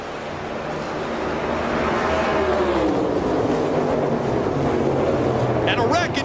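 NASCAR race cars at speed at Indianapolis, a loud roaring engine drone that builds and holds, with wind noise and a commentator talking over it.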